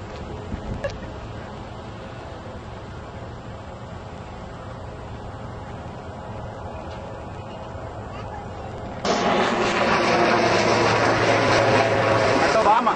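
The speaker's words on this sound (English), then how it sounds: "That's Obama's helicopter." Over the National Mall in Washington DC, the presidential helicopter passes overhead as a steady rotor drone under outdoor ambience and people talking, swelling suddenly louder toward the end as it nears.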